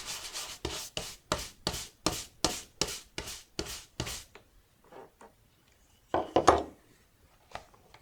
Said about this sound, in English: as you rub in the grease, they don't disappear completely